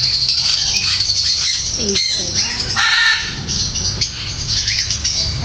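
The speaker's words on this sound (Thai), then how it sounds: "นก จะลงมาไหม จะลงมากินไหมไหนนก" Birds squawking and chirping at a large garden cafe in Ram Inthra, several sharp calls scattered over steady outdoor background noise, fairly close and loud throughout.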